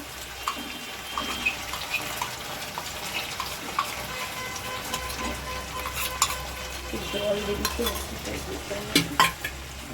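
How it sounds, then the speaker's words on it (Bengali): Yogurt spice paste goes into a pan of cauliflower with gram flour, crackling and sizzling with scattered pops and stirring scrapes, fairly close and continuous. "এদিকে আমি যে দইয়ের সঙ্গে মশলাটা পেস্ট করে রেখেছিলাম সেটাকে আমি দিয়ে দিলাম।"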